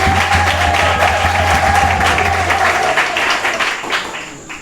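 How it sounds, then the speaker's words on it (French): A large outdoor crowd of villagers at a political rally applauds loudly and steadily, dense clapping with some cheering mixed in, fading slightly toward the end. "Applaudissez-vous très fort."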